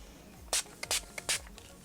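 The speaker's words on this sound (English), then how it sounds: "I'm really excited right now to go ahead and spray the rest of my face and create that radiant" Ace Beaute Seal It makeup setting spray is misted onto a face in three quick, close pumps, each a short sharp hiss, with a faint tap between them.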